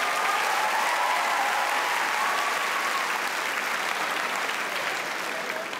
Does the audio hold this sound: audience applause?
yes